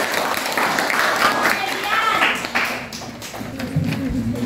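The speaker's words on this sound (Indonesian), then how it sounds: "Aplaus." Applause in an Indonesian classroom, a few seconds of brisk, scattered clapping from a group of pupils, with voices talking over it.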